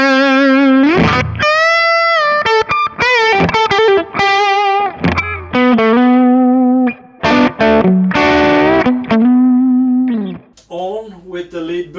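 Distorted electric guitar through a Kemper profiler on its original tone without lead boost, playing a busy melodic lead line of sustained notes and quick runs, loud and close, with no one talking.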